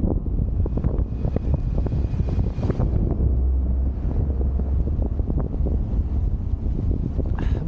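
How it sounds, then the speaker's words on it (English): Steady, heavy wind buffets the microphone while cycling in Jersey, Channel Islands, a continuous rumbling roar with gusty crackles throughout and no talking. "a bit windy today and"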